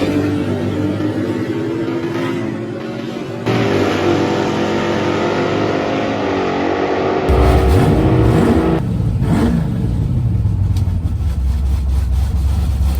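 Car engine revving hard and accelerating on takeoff, recorded from inside, loud throughout with gear changes breaking the steady roar into stages.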